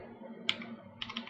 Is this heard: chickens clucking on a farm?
no